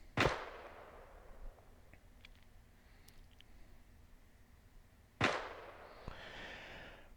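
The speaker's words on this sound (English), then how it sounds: "Let's just keep suppressive fire on him." Gunshots in a video game: two loud, sharp cracks about five seconds apart, each with a long fading tail and quiet background between.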